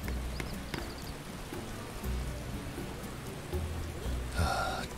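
Rain falls steadily in a swampy area of The Witcher video game, a constant patter with low rumbles and occasional hoof-like clops, ending with a brief bright chime-like sound.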